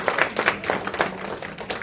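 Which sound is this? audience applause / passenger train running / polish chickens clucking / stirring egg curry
audience applause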